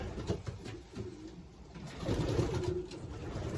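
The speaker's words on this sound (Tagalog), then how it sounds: "Beautiful pigeon." Pigeons in a loft coo softly in low, throaty murmurs, a couple of rounds rising and falling, with faint background hiss and no speech.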